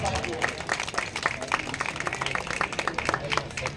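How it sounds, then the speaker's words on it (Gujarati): An audience at a large blood donation camp ceremony applauds, with many dense overlapping claps running throughout, fairly close, mixed with a speaker's voice. "જોરદાર તાળીઓના ગડગડાટથી આપણે વધાવીશું।"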